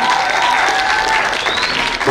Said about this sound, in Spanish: Aplauso fuerte, fuerte para ella